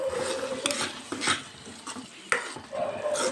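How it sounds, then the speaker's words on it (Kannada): A spoon stirs brinjal curry in a pan, giving a few scattered scraping and clinking strokes against the metal over a soft sizzle, close and fairly quiet with brief pauses between movements. "ಹಾಕಿಬಿಟ್ಟು ಚೆನ್ನಾಗಿ ಮಿಕ್ಸ್ ಮಾಡ್ಕೊಳ್ಳಿ"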